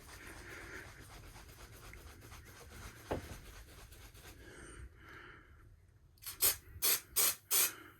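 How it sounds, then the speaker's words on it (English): Four short, loud hissing bursts from a spray adhesive can come in quick succession at the end, after a stretch of quiet rustling and handling noise. "So I'm going to go ahead and spray a few areas here."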